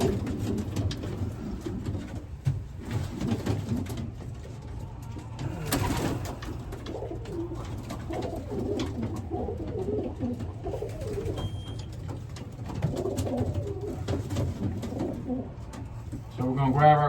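Racing pigeons coo steadily in a loft, a dense layered chorus of soft throaty calls close by, with some wing flutters and background movement throughout.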